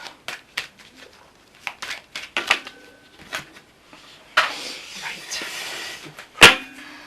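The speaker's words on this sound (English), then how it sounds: "you give those a wee shuffle for me" Tarot cards shuffled by hand during a reading, heard as a run of quick papery riffles and soft slaps, fairly close, with a burst of denser rustling and a sharp snap near the end.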